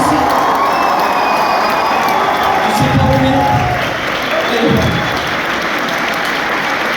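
Large theater crowd at a live event in a packed cinema hall applauding steadily and cheering, with whoops and shouts rising in bursts over the continuous clapping; a voice speaks briefly amid the noise.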